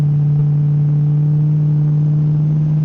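A pickup truck engine idles with a steady, loud low hum that stays even throughout, heard from close by.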